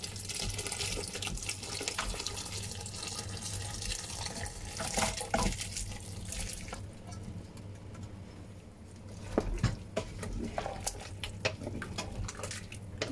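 Water pours and splashes steadily into a cooking pot of mutton dalcha, with occasional metallic clinks and a short lull before the flow resumes.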